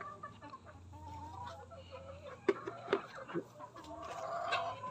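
Hens cluck softly in a barnyard during egg harvesting, a few sharper clucks rising over a steady low hum of background noise.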